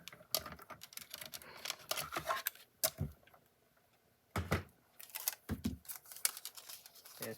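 Scissors cut a paper shape out for a scrapbook page, a close, quiet series of crisp snips and paper rustles in short bursts with brief pauses between them.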